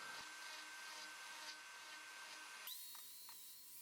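A Dremel rotary tool whines steadily while carving details into a wooden toy, a thin high-pitched grind that runs for a few seconds before cutting off abruptly, faint and alone.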